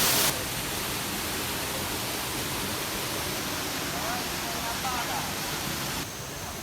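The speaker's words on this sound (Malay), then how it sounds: "Sungai Air Terjun Sigok" Sikog waterfall on a river in Malaysia: a constant, dense roar of rushing water, loud and close, holding steady throughout, with faint voices in the background.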